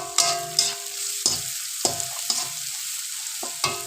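Spices such as coriander and chili powder frying and being stirred in a pan for a bitter gourd curry, with several scraping stir strokes over a soft, steady sizzle, close and alone without talk.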